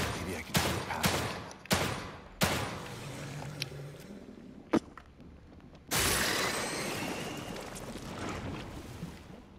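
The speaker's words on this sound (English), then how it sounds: "I just shot it in the face 5 times and nothing." Several sharp gunshots ring out in a video game horror setting, a few spaced single cracks early on, then a sustained louder burst of fire near the end against a rumbling ambient backdrop.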